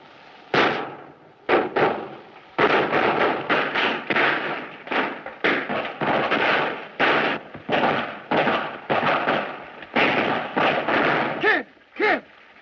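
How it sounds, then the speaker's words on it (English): A rapid run of loud gunshots rings out during a bank shootout in a 1931 western film, a dozen or so sharp cracks in quick, uneven bursts. "They're shooting up the bank."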